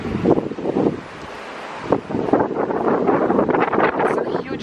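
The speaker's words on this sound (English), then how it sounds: "it's like really, really windy outside" Strong wind outside on a hotel balcony in Salou, Spain, buffets the microphone in heavy, uneven gusts, rumbling and roaring close by with no clear talk.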